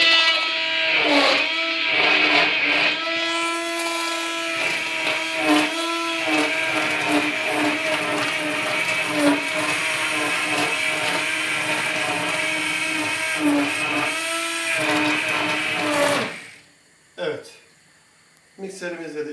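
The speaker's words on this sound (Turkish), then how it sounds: "terbiyemiz daha iyi harmanlanabilmesi için de mikserimizi alıyoruz" An electric hand mixer whirs steadily at close range for a long stretch, blending the soup's seasoning mixture for bulgur meatball soup, its beaters rattling against a metal bowl, then stops abruptly.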